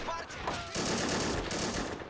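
Machine gun fire in the World War II strategy game Men of War, a dense rattling burst of rapid gunshots and battle noise, with a voice talking over it.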